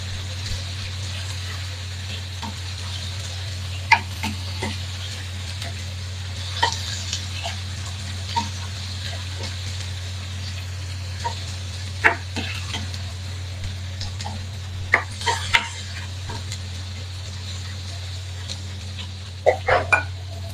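Ivy gourd frying in oil with onion and garlic is stirred with a utensil, giving soft sizzling under a steady low hum, broken by sharp scraping clicks against the pan at irregular intervals.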